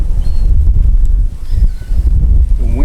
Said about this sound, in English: The wind's really blowing.